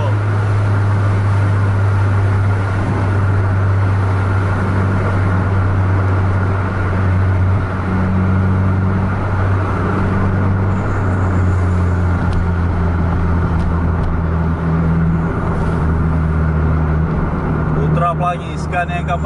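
Buses, including a Putra Pelangi Scania, race at full throttle on a highway, their engines droning loud and constant with a deep steady roar while someone talks over the noise.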